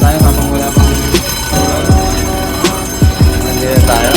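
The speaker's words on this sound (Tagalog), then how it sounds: "So dito tayo sa loob ng tren guys." Cabin of a moving passenger train: a steady loud rumble with wheels clacking over rail joints at a regular rhythm, close and constant throughout.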